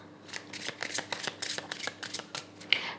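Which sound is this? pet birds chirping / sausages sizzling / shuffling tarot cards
shuffling tarot cards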